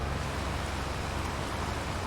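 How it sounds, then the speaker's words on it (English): Rain falls in the Farming Simulator 22 video game, a steady, dense hiss of droplets filling the scene evenly from start to finish, fairly loud and without talk. "There's the rain."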